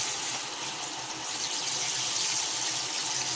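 Water spraying from a van shower head fed by an immersion pump, a steady broadband hiss of running water that continues evenly without pause, close and moderately loud.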